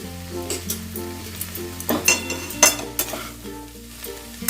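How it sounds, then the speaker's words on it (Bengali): Flattened rice is stirred into boiled potatoes, carrots and cauliflower in a pan, giving a run of scraping stirs and clacks over a faint sizzle, with steady background music. "সবজির সাথে আমি ভালো করে মিশিয়ে নেব দেখো"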